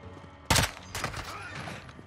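Gunfire in the video game Call of Duty: Modern Warfare 2 (2022) during a base raid: one loud, sharp shot is followed by a softer trailing burst and echo.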